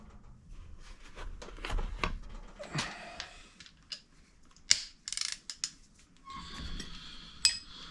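A ratchet socket wrench tightens an exhaust bolt on a Yamaha Tenere fitted with an Akrapovic exhaust, bursts of close metallic clicking and clinks separated by short pauses, with no talking.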